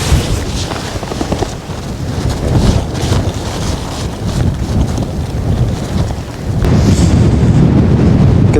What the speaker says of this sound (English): it's quite a breezy morning this morning